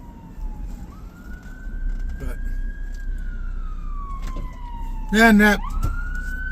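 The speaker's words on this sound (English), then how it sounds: "you can see the other ambulance or the ambulance coming" An ambulance siren wails on a city street, slowly rising and falling in pitch as it approaches and passes amid traffic noise. A short, loud, harsh siren burst cuts in near the end, and a voice speaks briefly.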